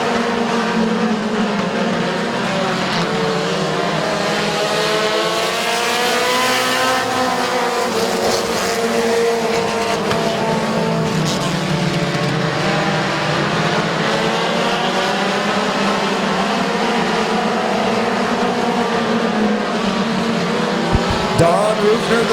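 A pack of race cars restarts on the green flag at Midvale Speedway, and loud engines drone and swell together as they power through the turn. The roar holds steady and continuous throughout, with faint talk underneath.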